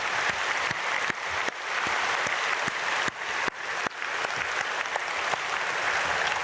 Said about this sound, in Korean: 크게 박수로 축복하겠습니다.